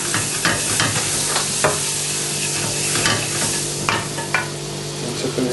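Butter sizzling in a hot pan ready for onions, a steady loud crackle with occasional scraping and stirring knocks throughout.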